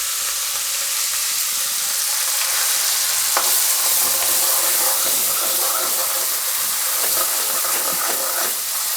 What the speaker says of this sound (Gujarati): હવે આપણે એમાં આ જે ગ્રેવી છે આપણે બનાવેલી એ નાખશું 2 ચમચા.